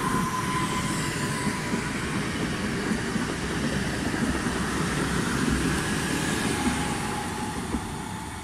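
Polish Regio regional train on the Świnoujście to Szczecin Główny line, unit ED78017, departing Goleniów station: a steady, loud rolling rumble of wheels and carriages that continues throughout, with no voices.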